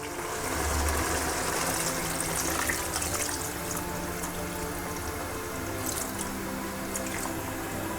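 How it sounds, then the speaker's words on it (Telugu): Water pours and trickles into a pot of chicken curry, a steady splashing flow with a constant hum in the background and no talking. "ఇప్పుడు కొద్దిగా వాటర్ వేసుకుందాం."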